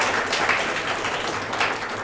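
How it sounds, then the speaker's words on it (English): An audience at Indienomicon, an indie game developer meetup, applauds in a steady, dense wash of clapping that fills the whole stretch without a break. "let's give a round of applause"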